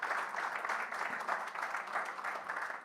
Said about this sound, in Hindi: दोस्तों, एक बार तालियां इस टेबल के लिए.